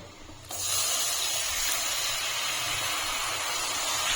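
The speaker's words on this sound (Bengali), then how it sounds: "এখন আমি এর ভিতরে দিয়ে দিচ্ছি দুধ" Milk poured into a pan of fried flour for a white sauce for cheesy pasta, a steady broadband hiss and splash that starts abruptly after a brief quiet moment and continues evenly and close by.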